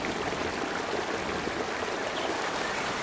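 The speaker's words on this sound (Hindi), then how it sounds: "घोंसला बाढ़ की पानी में बह गया।" Floodwater rushes and flows through a forest in an animated cartoon, a steady dense wash of water noise at even loudness, with no talking.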